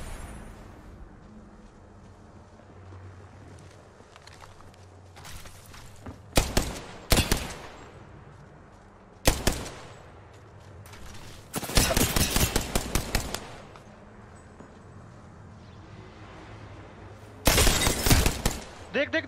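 Apex Legends gunfire: several loud automatic bursts and short volleys spread unevenly across the span, separated by quieter gaps with a low background rumble and faint voices.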